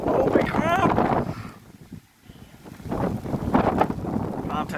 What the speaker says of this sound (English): Alright, it's getting quite windy.